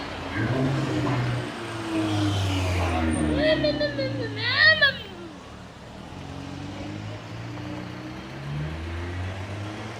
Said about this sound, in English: This car is from the Netherlands, and the other one behind it is from France.